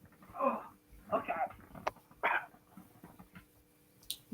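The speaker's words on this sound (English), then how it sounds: "Oh, doggy." A nine-year-old female dog gives short barks and yips in a few separate bursts, close by, with people's voices talking around them.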